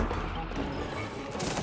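Dense, rapid gunfire in the It Takes Two beetle boss fight, a loud continuous barrage of shots blended with heavy game noise.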